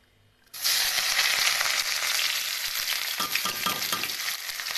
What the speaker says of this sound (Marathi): चला आपलं तेल गरम झालं आहे